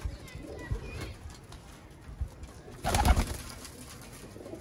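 Soft, low coos from chapray pigeons murmur in the background, with a louder flutter-like burst near the end; faint ambient noise throughout.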